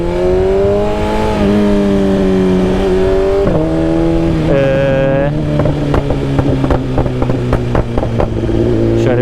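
A motorcycle engine with a new exhaust, unridden for six months, revs loudly and drones steadily, pitch shifting up and down, with sharp popping crackles from the exhaust toward the end.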